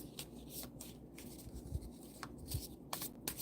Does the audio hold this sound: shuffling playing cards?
yes